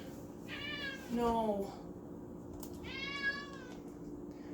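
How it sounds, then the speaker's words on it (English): A pet cat meows twice indoors, each call a clear drawn-out harmonic cry, the first louder and lower-pitched, the second a second or so later, over a steady low background hum with no talking. "Why do you always stop meowing as soon as I point the camera at you?"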